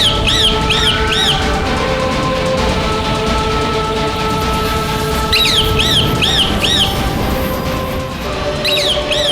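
A bird squawks in repeated bursts of three or four sharp, high calls, heard near and loud in a few clusters over a steady droning background.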